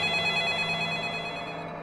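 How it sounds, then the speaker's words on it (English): A telephone rings in a horror movie trailer, a loud, continuous bell tone that fades slightly toward the end, with no voices over it. "Don't pick up the phone."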